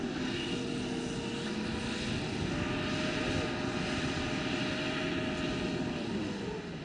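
Toyota Hilux engine droning steadily off-road through mud, a continuous low rumble with a tonal whine drifting in pitch, loud and close throughout with no speech.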